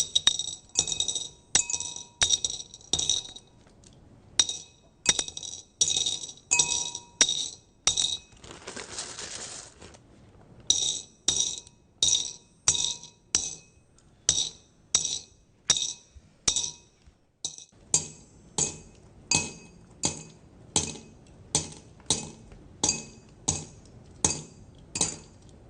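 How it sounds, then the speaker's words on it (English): 114 turquoise stones drop one after another into a glass jar, each landing a bright clink in a steady rhythm, close and clear, with a short rattling pause near the middle and no talking. "dropping 114 turquoise stones into a glass jar"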